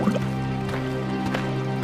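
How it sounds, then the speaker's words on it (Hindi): Water pouring and dripping into clay pots at a riverbank, a steady splashing fill with a few distinct drips over a continuous liquid wash, close and fairly loud. "अपने अपने मटके में पानी भरकर"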